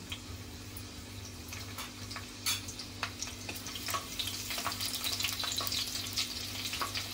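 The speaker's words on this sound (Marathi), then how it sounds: "लसणाची फोडणी करते मी पहिले" A few cloves of crushed garlic fry in two spoons of hot oil as a tempering, giving a low steady sizzle broken by sharp crackles and spits that grow busier, close by with no talk.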